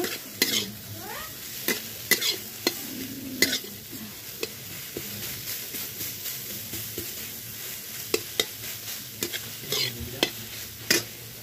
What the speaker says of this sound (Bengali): সল্ট দিয়ে কিছুক্ষণ ভেজে নিলাম।